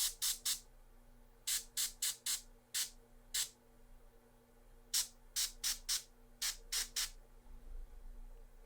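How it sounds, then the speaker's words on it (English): An airbrush spraying primer, acrylics and inks lets out short, sharp hissing bursts in quick clusters of two to five, each crisp and close, separated by brief quiet gaps. "So I just sprayed primer, acrylics, and inks all through the same airbrush"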